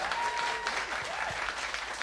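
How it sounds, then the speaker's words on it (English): An audience applauds a jazz pianist at a piano concert at a New Orleans jazz venue, steady sustained clapping throughout with little talk. "please continue clapping for Mr. Ryan Hanseler."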